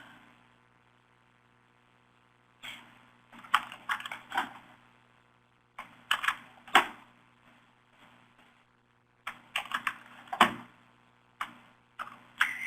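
Bursts of computer keyboard typing while entering coordinates into a mapping program, clustered keystrokes in short runs separated by quiet pauses, close and moderately loud, with a faint steady hum underneath and no talking.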